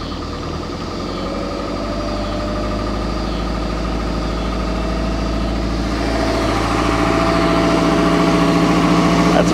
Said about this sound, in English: We're gonna rev it up a little bit and see what we get with a little bit higher idle.